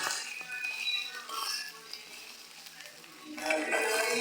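Ginger paste and spices fry in a pan, giving a soft crackling sizzle with faint stirring scrapes that rise into a brighter burst near the end.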